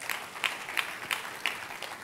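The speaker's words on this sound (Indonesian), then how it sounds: "Tepuk tangannya yang meriah buat Tuhan kita." A church congregation claps during a service, a soft, distant run of about five evenly spaced claps over a faint hall murmur.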